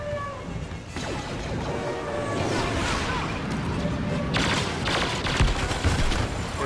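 Homing shots from an AT-ST walker firing at speeders during a Walker Assault battle on Jundland Wastes in Star Wars Battlefront, a steady stream of blasts and explosions mixed with busy battle noise and a player's voice underneath.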